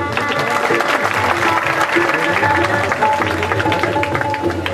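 Audience applause at an honouring ceremony during a Triveni festival in Bhavnagar: a dense, steady wash of clapping from a crowd, sustained throughout with music tones running underneath.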